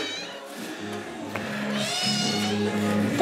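Little kittens on a farm give several thin, high meows close by, one after another, rising louder toward the end.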